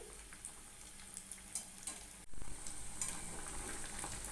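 Bengali egg devils, egg chops fried one at a time in oil in a kadai over a medium flame, give off a close, continuous sizzle with a sudden louder burst of bubbling partway through.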